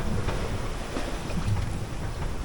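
A sailboat moves under sail across the open ocean at night, sailing upwind, with constant rushing wind and water noise and no voices.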